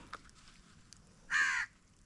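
A crow gives one loud, harsh caw of about a third of a second, standing out alone against a quiet background with a faint click or two just before it.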